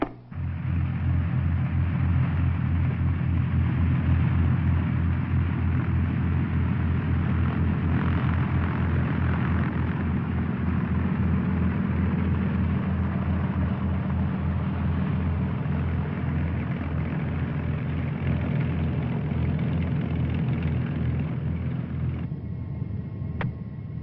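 A light Commander aircraft taxis to the ramp with a loud, steady engine drone and propeller rumble that holds evenly throughout, close and continuous.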